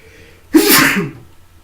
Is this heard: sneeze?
yes